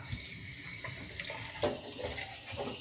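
Running tap water into a kitchen sink while dishes are washed by hand, a steady broadband splashing stream with small clinks and knocks, fairly close and continuous throughout.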